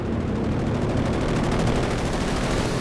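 Strafing-run gunfire from a plane in Company of Heroes 2 during a late-game 3v3 tank battle. A dense, continuous roar of rapid shots and explosions holds steady, loud and up close, for about three seconds with no talking.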